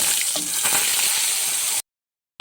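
Potol (pointed gourd) peel paste hits hot mustard oil tempered with nigella seeds and sizzles loudly and steadily for under two seconds, then cuts off abruptly into silence.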